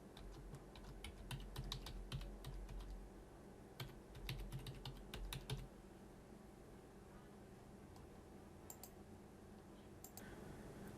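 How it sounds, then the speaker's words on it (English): Quick bursts of clicky computer keyboard typing, a username and password being entered, come in clustered runs of keystrokes with pauses between, faint and close against a steady low hum. "Now let's just type in our username and password."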